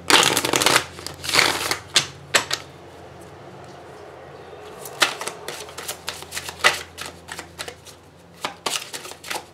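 Papery riffling and slapping of Oracle of Mystical Moments oracle cards being shuffled by hand, in busy bursts with a short pause midway, close and crisp with no talking.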